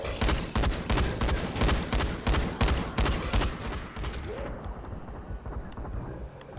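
Shotgun fired again and again in a video game, loud booming blasts in a fast, uneven string that stop partway through, leaving a dull, muffled rumble.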